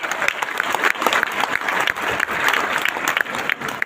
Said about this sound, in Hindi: तो जोरदार ऐसी मेहनत के लिए ताली बजाओ जो आप सब लोग